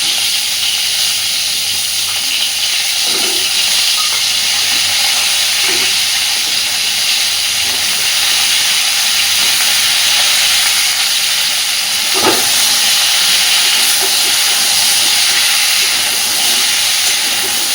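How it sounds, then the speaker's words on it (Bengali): Cauliflower florets and potatoes frying together in hot oil give a steady, loud hiss and sizzle throughout, with a few brief clinks of stirring, no voices present. "আমি একসাথেই ফুলকপি আর আলুকে ভেজে নিচ্ছি।"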